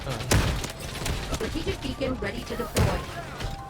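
Gunfire in the video game Delta Force gives two heavy, booming shots a couple of seconds apart, with lighter clatter between them, under continuous excited talking.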